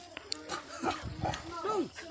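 Dogs bark and yelp in a rural hillside village, several short, close barks and whines scattered over about two seconds, mixed with a person talking nearby.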